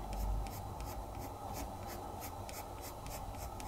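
An orange colored pencil scratches steadily across paper, shading the folds and soft shadows of a drawn sunflower petal, with close, continuous scribbling strokes in a quiet room.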